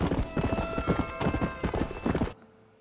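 Horse hooves clip-clop in a steady, brisk rhythm in Red Dead Redemption, loud and close, with a tonal game sound behind them, then stopping abruptly near the end.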